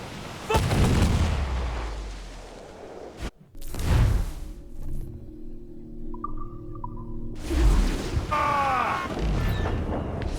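Ship cannon fire in the video game Assassin's Creed IV Black Flag, with two heavy booms and rumbling blasts spread across the clip, loud and close, mixed with whooshing and game sound effects.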